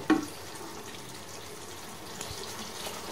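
A small splash of water is poured into a pan of chicken curry, a brief watery pour and gurgle at the start followed by quieter liquid sounds and faint kitchen background.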